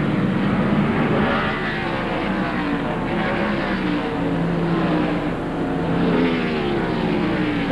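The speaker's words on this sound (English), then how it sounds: "watch as this babbling Ford accelerates off the corner" A Ford stock car at a 1995 Sonoma road-course race accelerates off a corner, its engine a loud, rising, rough drone with shifting pitch from other cars nearby.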